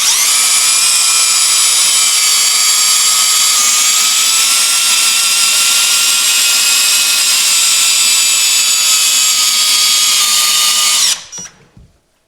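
A FEIN ASCM 18 4 QM AS cordless drill bores into wood with a loud, steady, high whine for about eleven seconds, then cuts off abruptly and winds down.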